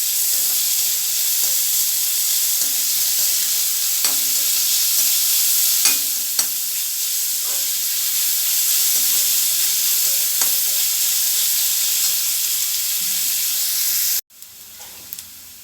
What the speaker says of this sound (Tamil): இந்த வெங்காயத்தை நம்ம அதில் சேர்த்துருவோம். கொஞ்சம் நல்லா வதக்கிக்கலாம் நம்ம.